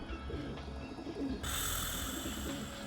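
Pigeons coo softly in the Dreamfall Chapters game over a low ambient background, with a brighter hiss of environment noise rising midway through.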